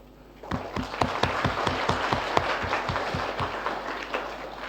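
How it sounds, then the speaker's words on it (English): Lecture audience on Canada's Indo-Pacific strategy applauds the panel, a dense steady burst of clapping with a few sharp, louder claps rising above it, starting abruptly and holding strong to the end. "could you please join me to thank the panel by a big applause?"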